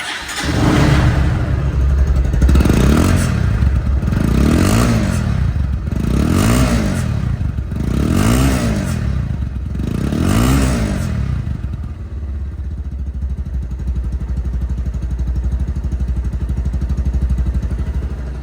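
A second-hand Bajaj Pulsar double-disc motorcycle engine revs up and down about six times in a steady rhythm, then settles into a loud, even idle that runs to the end.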